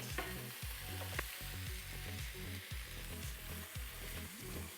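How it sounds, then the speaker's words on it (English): Potatoes and carrots being stirred in a hot pan, with a steady sizzle and repeated scraping strokes of the utensil against the pan bottom, close and continuous without speech. "After we put our potato and carrots inside and stir a little bit"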